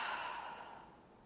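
A slow, soft exhale through the mouth during a gentle yoga breathing exercise, a breathy airy rush that fades gradually over about a second, close and quiet.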